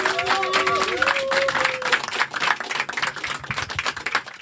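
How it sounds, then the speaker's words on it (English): An audience at a live show in Berlin breaks into applause, a dense, crowded clatter of clapping that swells and then thins out, with a voice and some whoops heard over it early on. "So a big round of applause,"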